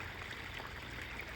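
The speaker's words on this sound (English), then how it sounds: "That's why you hear the water from my waterfall pond." A garden waterfall pond trickles and splashes in a soft, steady wash of running water, fairly close and unbroken, with no one talking.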